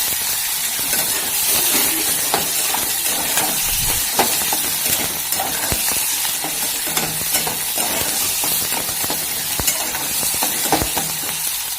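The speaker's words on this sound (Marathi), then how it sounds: "तर टोमॅटो हे जास्त वेळ तेलामध्ये मऊ होऊ द्यायचे" Tomatoes fry in oil in a pan while cooking varan dal, giving a steady close sizzle and hiss broken by scraping stirring clicks, with no talking.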